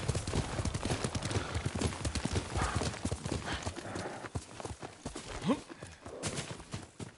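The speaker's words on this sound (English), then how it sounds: "Yuriko's horse. She can't be far." Horse hooves clip-clop in a steady walking rhythm in the video game Ghost of Tsushima, close and continuous, with faint ambient outdoor sound around them.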